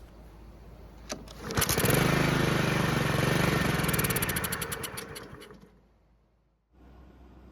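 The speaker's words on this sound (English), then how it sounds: "it looks like the engine's now able to start and run after adding fresh fuel to the tank" A Husqvarna lawn mower engine, running again after being refilled with fresh fuel, catches with a few sharp pops, then runs loud and steady with a buzzy chatter before shutting off abruptly, after which a softer mechanical hum returns.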